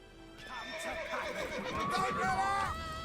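Horse neighing in the video game The Witcher 3: Wild Hunt (Next Gen Update), a loud, drawn-out whinny with hoof clip-clops, heard with game dialogue voices.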